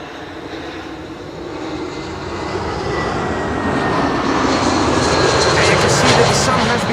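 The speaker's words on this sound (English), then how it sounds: "Vueling flight 8309 is approaching, arriving from Barcelona" A Vueling airliner approaching to land at Amsterdam Schiphol, its jet engines a loud, steadily swelling roar and whine as it nears, with a voice talking over it.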